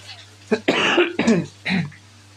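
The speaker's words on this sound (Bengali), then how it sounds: "কাশি ছিল তো সেটা এখন রয়ে গেছে" A person coughs several times in quick, harsh bursts, close and fairly loud, with short pauses between.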